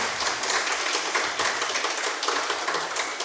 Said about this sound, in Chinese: 掌声一下吧，都不知道给自己一个鼓励